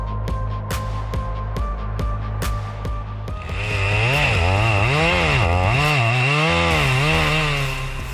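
A 70cc, 5.4-horsepower chainsaw cuts through hardwood. A few sharp ticks come first, then the engine roars in loud and near, its pitch rising and falling as the chain bites and frees.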